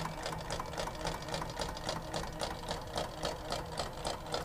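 A quilting machine on a small frame runs steadily, its rapid rhythmic stitching whir continuous and close as it sews long basting stitches across a large quilt.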